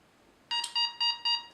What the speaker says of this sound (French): Vous entendez 4 bips.